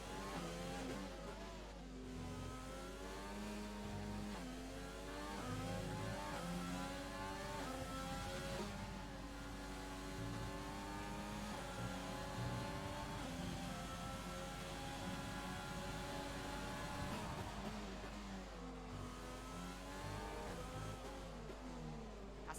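Formula 1 cars racing at the Singapore Grand Prix, with a steady, high-pitched engine whine that rises and falls through gear changes and corners, continuous and fairly loud, no voices present.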